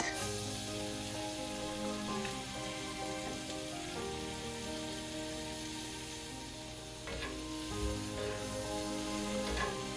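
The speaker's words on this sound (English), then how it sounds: "When the butter's melted, put in the onions. This is on low heat." Onions cooking in melted butter on low heat for an apple grilled cheese, a steady soft sizzle and gentle crackle throughout, with faint stirring and a low background tone.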